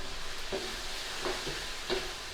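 Sweet and sour pork sizzles steadily in a pan as sauce is stirred through, with three soft utensil scrapes spaced about two-thirds of a second apart over the constant frying hiss.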